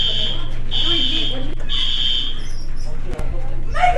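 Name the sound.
school fire alarm ringing after being pulled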